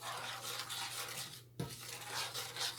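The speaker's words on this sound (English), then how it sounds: "we're gonna go ahead and stir that around" Sugar being stirred into candied yams in a pot, with a steady clinking and scraping of a spoon against cookware and one sharper knock midway, close and fairly loud.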